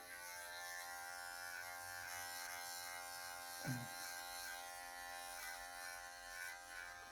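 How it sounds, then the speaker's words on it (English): Electric hair clippers with a number 4 guard buzz steadily and close up while cutting side and back hair, with a brief rougher burst midway as the blades bite into the hair. "You can sort of hear the clippers kind of cutting into the hair"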